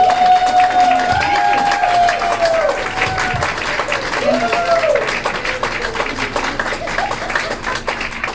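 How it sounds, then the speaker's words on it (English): A comedy club audience claps and cheers at the close of a headliner stand-up set. A loud, dense round of applause with whoops rises over a sustained tone and then slowly tapers off. "Another round of applause for Ying."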